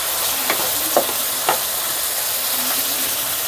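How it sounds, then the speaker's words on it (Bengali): Garlic, green chili and spices sizzle in hot oil, a steady close frying hiss with a few faint stirring clicks, no voices. "এরপর এগুলো দিয়েও আবারও এগুলোকে ভেজে নেব।"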